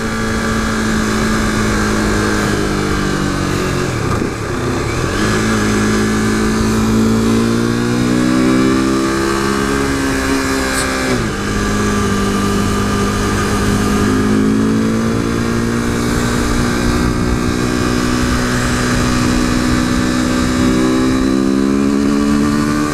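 A modified 2015 KTM RC 390 motorcycle engine rumbles loudly and close, revving up and down in several swells with shifting pitch, steady throughout with no speech.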